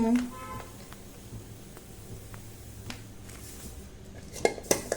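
A few sharp metallic clinks and knocks of a thick aluminium pan being set down come near the end, after a quiet kitchen stretch.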